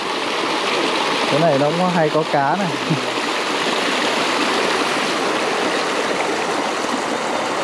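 Stream flowing through a rice field at night, a constant rushing babble of water close by, with someone briefly talking over it near the start.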